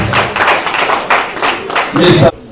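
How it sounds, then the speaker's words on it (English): Applause from an audience at a formal courtesy visit event in Abuja, a steady patter of clapping with a few sharper claps, ending abruptly after about two seconds with talk faintly underneath. "A round of applause."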